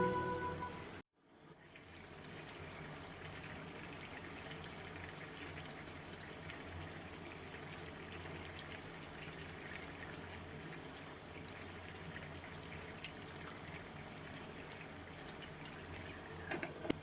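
Hilsa fish and eggplant curry simmering in a pot, a faint steady bubbling hiss that holds evenly throughout after a brief dropout near the start, with no talking.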